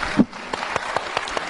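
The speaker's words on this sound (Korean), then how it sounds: "큰 박수로." A small audience claps for under two seconds after a thank-you during a Korean political talk event, giving scattered, fairly close, uneven claps with no voices over them.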